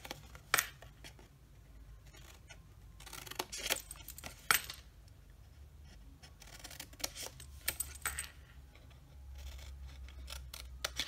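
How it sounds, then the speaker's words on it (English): Paper snips cut a row of score marks into folded cardstock for a lotion box, giving sharp separate snips in quick clusters with short pauses, close and fairly quiet. "just start snipping up all of these score marks up to that 1 inch score line"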